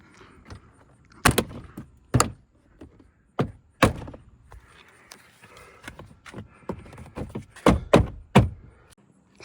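A 2019-2024 Toyota RAV4 interior trim panel pressed and clipped back into place, giving a series of sharp plastic snaps and dull thunks at irregular intervals with handling noise in between, close up.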